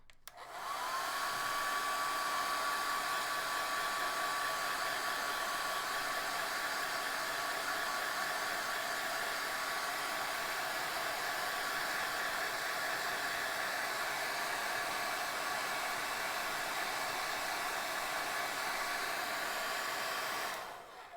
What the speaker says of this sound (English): I'm going to just blow dry her top right here really quickly